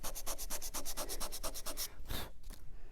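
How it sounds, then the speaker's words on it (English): Sandpaper rubs rapidly over a small craft elephant ear from a desk buddy kit, about fifteen quick, even back-and-forth strokes, close and alone, ending in a couple of slower, rougher scrapes. "So I'll just sand that off."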